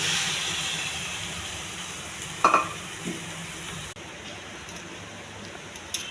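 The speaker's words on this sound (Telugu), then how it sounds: "కొద్దిగా అల్లం వెల్లుల్లి పేస్ట్ అండి. ఈ పచ్చివాసన పోయేంత వరకు వేగించాలి." Ginger garlic paste fries in a pan for a beans and carrot stir-fry, making a soft, steady sizzle with an occasional stir. The hiss drops away partway through, and nobody speaks.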